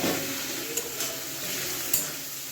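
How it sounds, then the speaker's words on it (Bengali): Spice paste and potatoes frying together in a pan for a bhetki fish curry, a continuous close sizzle broken by a couple of sharp utensil knocks against the pan. "এবার আলুগুলো দিয়েই কষাবো"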